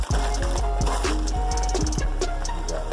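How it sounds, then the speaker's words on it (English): Potatoes dropped into a pot of boiling lactose-free milk while making mashed potatoes, giving a busy liquid bubbling and sloshing with repeated soft plops and splashes, close and steady throughout. "Now we got us a boil going. It's time to drop in our potatoes."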